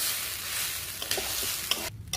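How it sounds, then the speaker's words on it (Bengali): Rice coated with turmeric, salt and ginger paste fries in a pan for basanti pulao, giving a steady bright sizzle with a few scraping stirs toward the end and no talk. "চাউল হচ্ছে হলুদ, লবণ আর আদা বাটা দিয়ে চাউলটা এখন সুন্দর করে আমি একটু ভেজে নেব।"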